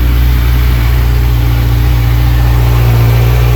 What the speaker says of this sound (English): it has a very deep guttural tone, and when you crank on it, you can hear it right straight through the airbox